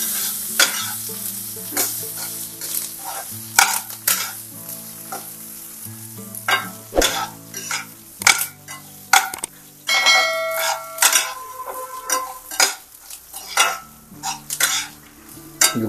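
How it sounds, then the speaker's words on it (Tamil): Curry leaves dropped into hot oil in a pan for a tangy South Indian kulambu, the heat just switched off, crackling and sizzling steadily with stirring scrapes and faint clinks of the pan throughout. "இதை ஆஃப் பண்ணிட்டு கருவேப்பிலையை போடுறேன்."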